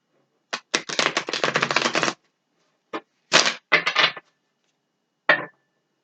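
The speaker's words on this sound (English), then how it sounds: "Give this just a couple shuffles." Crisp riffling of tarot cards in a quick rapid burst, followed by a few shorter shuffles and a single soft flick, close up in a quiet room.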